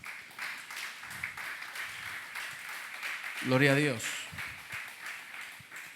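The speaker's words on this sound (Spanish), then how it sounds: "Dele una ofrenda de palmas al Señor" A church congregation clapping their hands as an offering, with steady rhythmic clapping under a brief spoken exclamation.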